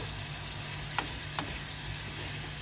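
Tomatoes, onion and minced meat frying in a pan give a steady broadband sizzle, with two brief utensil scrapes partway through and a low hum underneath.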